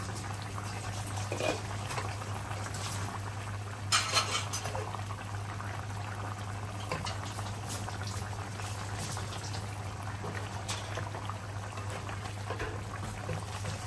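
Curry bubbling steadily in a pot just after the lid is lifted, a continuous close simmer with a short clatter early on and no voices.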